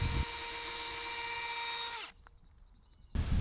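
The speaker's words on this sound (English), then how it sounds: "Drill them out, pre-drill them." A power drill whirs steadily for about two seconds while pre-drilling anchor holes for a standard cattle gate on a field fence install, then winds down and stops. A brief quiet gap follows before a burst of outdoor noise.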